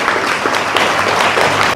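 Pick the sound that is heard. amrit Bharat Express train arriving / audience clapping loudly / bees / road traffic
audience clapping loudly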